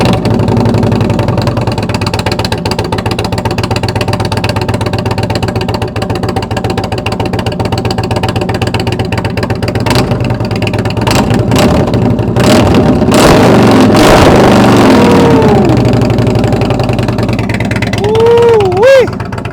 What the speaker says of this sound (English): if I'm going to talk about a motorcycle with a regular size exhaust, the Roadmaster